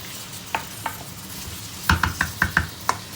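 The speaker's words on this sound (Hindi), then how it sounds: "उसको अच्छी तरह से भून लेंगे मसाला सब्ज़ी के साथ" Zucchini stir-fried with masala in a pan, a low sizzle under a series of sharp spatula knocks and scrapes, sparse at first and then quicker in a cluster of about six taps.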